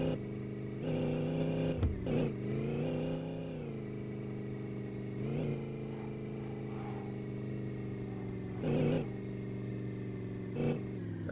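A 1955 Chevrolet engine idles steadily in a garage with a strong harmonic hum, rising in a few brief revs before settling back to a smooth, close, continuous drone.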